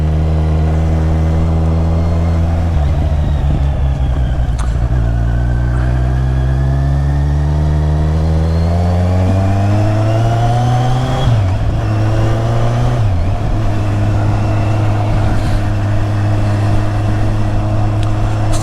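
Riding a 2015 Kawasaki Z1000 motorcycle. The engine is loud and steady the whole way, with a deep drone that climbs as the bike speeds up, falls back and settles, then shifts pitch again near the end, with no talking.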